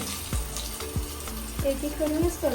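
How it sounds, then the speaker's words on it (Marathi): Bombil fish frying in a pan at home, a low, steady sizzle with a few soft clatters over about two and a half seconds, fairly quiet and close. "आता इथे स्नेहा फ्राय करते"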